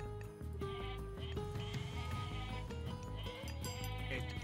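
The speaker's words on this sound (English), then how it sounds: "I guess we just go for the freaking goats now." Goats bleat in an Age of Mythology match, with short animal calls scattered through busy game music and effects at a moderate level.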